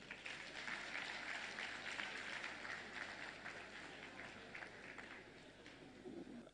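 A conference audience at a food security gathering in Ghana claps for a speaker, a sustained, even roomful of applause that carries on throughout and fades slightly toward the end.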